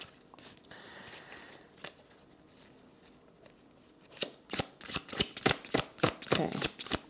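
Tarot cards slid and drawn from a deck in a reading, a run of crisp papery snaps and flicks building into rapid close bursts near the end, with a softer rustle before.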